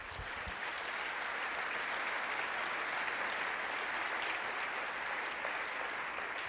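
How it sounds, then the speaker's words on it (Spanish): A church congregation claps steadily throughout, a dense, even wash of applause from a crowd at a sermon on Jesus the good shepherd, with no voices rising above it. "Démosle un aplauso a Jesús"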